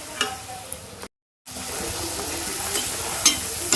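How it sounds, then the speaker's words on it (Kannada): Puri fries in hot oil while oil is spooned over it, a steady crackling sizzle with a brief gap and small bursts of spattering. "ನಾವು ಎಣ್ಣೆನ ಇದ್ರ ಮೇಲೆ ಹಾಕ್ಕೊಳ್ಬೇಕು, ಪೂರಿ ಮೇಲೆ, ಅವಾಗ ಚೆನ್ನಾಗಿ ಉಬ್ಬಿ ಬರುತ್ತೆ"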